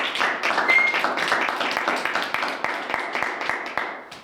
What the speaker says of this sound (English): so let's clap for Audrey, please.